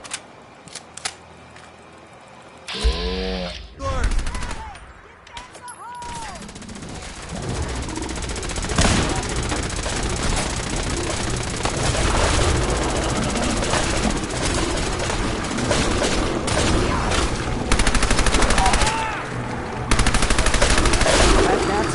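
Bursts of automatic and single gunfire in Fallout 4, a combat exchange with rapid volleys and scattered shots building over time, with voices calling out between and under the shooting.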